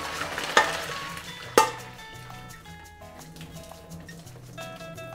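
Basil dropped into a hot frying pan sizzles and crackles steadily as vegetable pasta is made, with two sharp clanks of utensils against the pan near the start and soft stirring sounds over a faint low hum.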